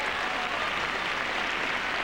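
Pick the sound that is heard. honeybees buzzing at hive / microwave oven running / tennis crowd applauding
tennis crowd applauding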